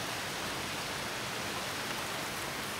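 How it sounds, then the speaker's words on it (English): Steady rain falling in Chiang Mai, Thailand, a dense even hiss of drops on surfaces with no breaks and no voices. "It's been raining all day here in Chiang Mai."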